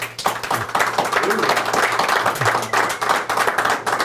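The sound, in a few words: audience applause after interview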